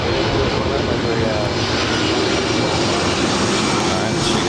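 An Iberia Airbus A330 jet rolling for takeoff on runway 24 left at LAX, giving a loud, steady, broadband engine roar that holds throughout with no pauses.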